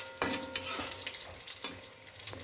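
Dried lentil dumplings (bori) dropped into hot oil for a Bengali chorchori, giving a steady close sizzle with bursts of crackling and occasional stirring scrapes, no talking.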